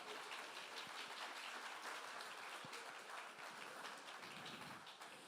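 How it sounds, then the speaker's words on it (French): Church congregation applauding at a celebration service, a dense, even wash of many hands clapping that fills the room steadily and fades slightly at the end. "j'aimerais que vous puissiez applaudir votre voisin"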